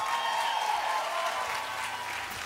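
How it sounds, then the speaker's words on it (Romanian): Audience applause at an unplugged concert, a steady dense clapping filling the whole moment at fairly even loudness, with faint tonal hum and voices low underneath. "Vă rog frumos aplauze."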